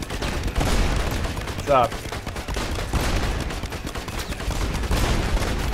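Rapid bursts of video game gunfire and booming explosions fill the clip continuously, loud and dense, with a voice briefly speaking over the din.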